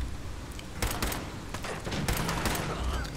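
Rapid gunfire from the video game Fallout 4, a dense run of sharp close shots in bursts over constant game background noise.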